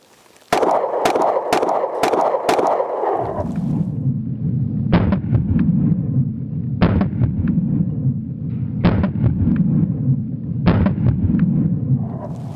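Five 124 grain pistol rounds fired from a Monsoon Tactical Lucky 7, loud sharp reports spaced a couple of seconds apart over a constant low background rumble.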